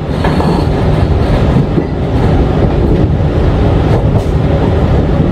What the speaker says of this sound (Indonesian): Kereta api Purwojaya berjalan langsung stasiun Cirebon Perujakan.